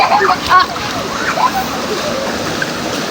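Water splashes and sloshes continuously as people bathe outdoors in summer in the countryside, a loud, busy wash of sound with voices mixed in.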